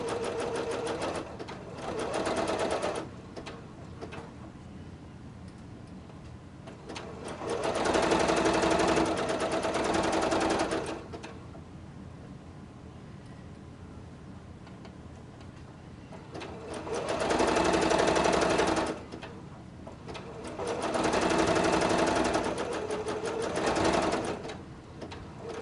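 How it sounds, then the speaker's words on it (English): A sewing machine stitches a zipper ruffle tank top in four separate bursts of fast, steady whirring, close and fairly loud, with quiet pauses between runs. "And keep on stitching."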